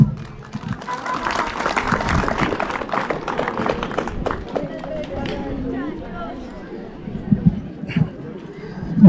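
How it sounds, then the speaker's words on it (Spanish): An audience at a district anniversary celebration in Huayllapampa applauds the mayor of Pararín, a sustained patter of clapping from a crowd that tapers off, with voices talking over it. "vamos a recibir con fuerte palmas"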